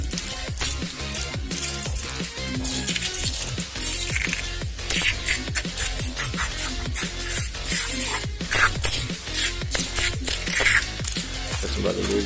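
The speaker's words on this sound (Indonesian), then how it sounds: "Kita semprot dulu bro semuanya biar rata." Rexco 70 multi-purpose degreaser is sprayed over oily motorcycle parts, including the chain and rear sprocket, in repeated hissing bursts between clicks, with someone talking throughout.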